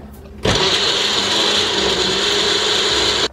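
An electric blender grinds onion, garlic, lemongrass and ginger into a paste, starting abruptly with a loud, steady, high whirring drone that holds evenly for about three seconds before cutting off.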